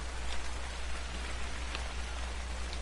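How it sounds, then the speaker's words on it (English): Rain falls steadily at night in the video game Ark Survival Evolved, a constant soft hiss of drops with a low hum beneath and one sharp tick at the end. "Stupid rain and it's nighttime."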